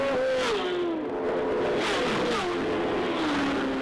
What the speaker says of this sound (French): La course va durer 12 tours, avec 2 catégories de motos, les 1000 cm3 comme Stéphane et les 600 comme Kevin.